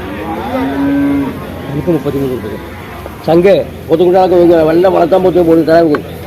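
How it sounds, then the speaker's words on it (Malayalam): Deep, drawn-out lowing from large water buffalo nearby, several calls in succession, with people talking in the background at a busy cattle market. "ഇവിടെ കെട്ടിയിരിക്കണ വലിയ പോത്തുകൾ"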